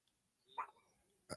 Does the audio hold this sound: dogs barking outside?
yes